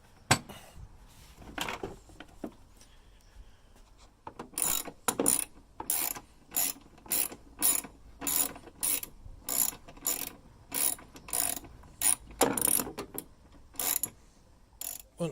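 Ratchet wrench undoing 8mm bolts on a Ford Ranger turbo, a rapid run of close, crisp metallic clicking in steady bursts that follows some quieter handling noise, with no talk.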